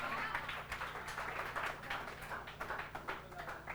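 Students clapping for themselves in a classroom, a short round of quick, uneven hand claps that is faint and slightly distant, with a teacher's voice over it.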